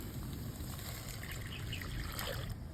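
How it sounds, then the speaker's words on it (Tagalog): Water poured into a pot of instant noodles with squid balls and oyster sauce, a soft, steady trickle that runs continuously and fairly faintly for nearly three seconds. "Lagyan na tayong tubig"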